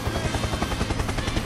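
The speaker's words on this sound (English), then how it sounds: "Helicopter! Helicopter!" Helicopter in the video game Valorant, a steady rapid rotor chop pulsing loudly and close throughout with no voices over it.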